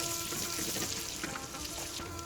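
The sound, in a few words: butter melting in a pan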